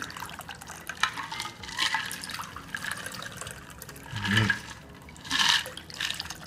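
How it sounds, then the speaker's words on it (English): A Cosmopolitan cocktail pours and trickles into chilled glasses in a few splashing bursts, with a faint clink, against a steady background hiss. "We've chilled our 2 glasses."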